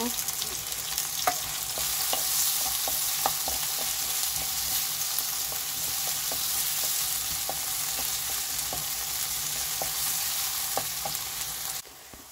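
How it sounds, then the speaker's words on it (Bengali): Chopped onions fry in hot oil, browning under a continuous bright sizzle, with regular light taps of a spoon or spatula against the pan throughout. "পেঁয়াজটা বাদামি কালার করে ভেজে নিব"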